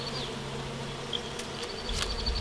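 Honeybees buzz around an open hive during a beekeeping inspection, a steady close droning hum that fills the whole stretch, with a few brief louder passes of individual bees near the microphone.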